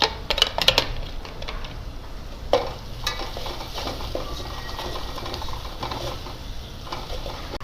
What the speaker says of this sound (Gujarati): ડુંગળી ટામેટાં સંતળાઈ જાય ત્યારબાદ એમાં મીઠું, લાલ મરચું પાવડર,